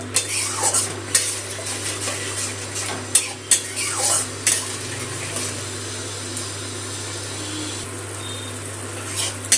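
Spoon stirring and scraping curd with spice paste as it fries in a pan, with intermittent close clinks and scrapes over a steady low hum and soft sizzle.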